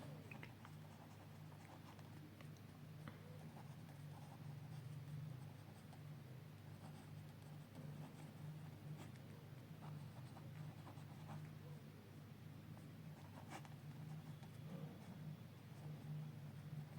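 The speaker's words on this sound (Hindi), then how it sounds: "मैं एक डेफिनेशन लिख रहा हूं" Someone handwrites a definition during an accounting lesson, with steady, scratchy pen strokes heard close up throughout and no talking.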